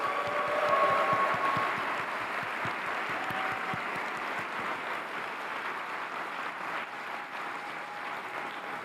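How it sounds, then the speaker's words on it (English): Audience applause for developers at a tech conference keynote, a broad wash of clapping that starts strong and stays steady, slightly distant, without talk over it. "Let's give them a round of applause."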